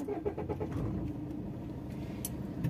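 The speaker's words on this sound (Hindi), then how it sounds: "तो हमने गाड़ी स्टार्ट कर ली है" A car engine starts and settles into a low, steady idle, heard faintly from inside the car during a first driving lesson, with no talking.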